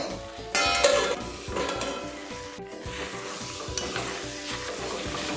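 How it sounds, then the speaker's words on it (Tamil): Jackfruit sautéing in a pan while being stirred, giving a continuous sizzle with scraping stirs and occasional clinks of the utensil against the pan, close and fairly loud. "இதை நல்லா அப்படியே வதக்கிட்டே வரணும்"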